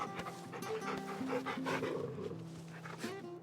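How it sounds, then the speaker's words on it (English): Dog panting in the video game Final Fantasy XVI, quick rhythmic breaths close by with a few soft whimpering tones, layered over game music. "Good dog. Good dog!"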